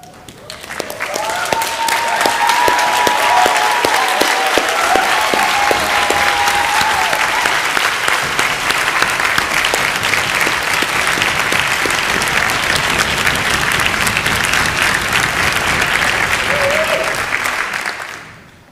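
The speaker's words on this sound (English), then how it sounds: "Can I ask you all to be upstanding and applaud them" Graduation ceremony audience applauding at full strength, a steady, dense wash of clapping that swells quickly and holds for nearly twenty seconds before tapering off, with a few voices mixed in near the start.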